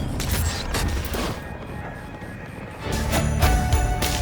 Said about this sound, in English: I'm using the cruise missile travel.